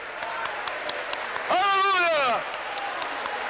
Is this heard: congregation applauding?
yes